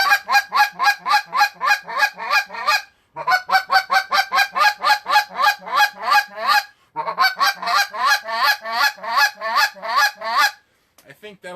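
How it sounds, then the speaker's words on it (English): Rapid clucks blown on a Mr. Big goose call, loud and close, in three quick bursts of repeated honking notes separated by short pauses. "here's fast clucks, rapid clucks"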